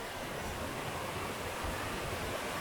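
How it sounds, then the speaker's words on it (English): Steady full-band rush of a waterfall in a gully, continuous and fairly loud with no breaks or voices over it. "There it is. There's the waterfall."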